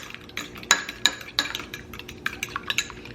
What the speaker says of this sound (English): Mix this really well for the top of the crust.